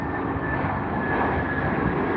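An Aer Lingus airliner moving onto the runway at Heathrow produces a steady, continuous jet engine roar with a faint whine, heard from a distance without interruption.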